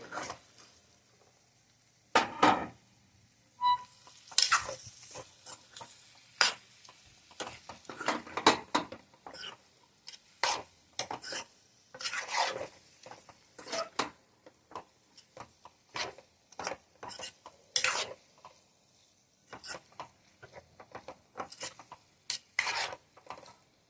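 Green chili and potato fry being stirred in a pan, with irregular scraping and rubbing of a spoon against the metal and faint sizzling, heard close in uneven bursts between short quiet gaps.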